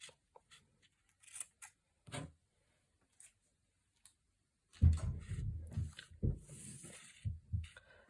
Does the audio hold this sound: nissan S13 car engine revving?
no